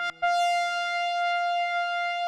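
One held, detuned Yamaha CS-80 synthesizer note rings out clean and steady after a brief click, its bright harmonics shimmering slightly as it sustains.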